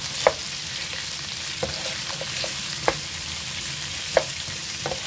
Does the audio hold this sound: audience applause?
no